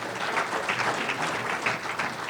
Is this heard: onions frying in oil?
no